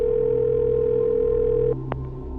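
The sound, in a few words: telephone ringing tone while placing a call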